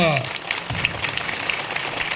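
Crowd applause at a political rally for a chief minister's public meeting in Tunkaturthi constituency, a dense continuous wash of many hands clapping at moderate, steady loudness, with a brief voice at the very start.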